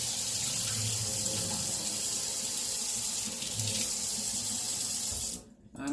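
Kitchen tap running steadily into a sink while meat is rinsed, a close continuous splashing stream with slight shifts as the meat moves under it, cutting off at the end.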